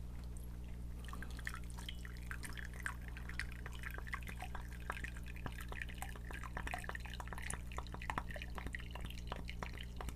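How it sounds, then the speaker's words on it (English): Water pours and drips out of a coffee brewer, a steady trickle with rapid irregular drops over a constant low hum, quiet and without speech. "let me pour the water out"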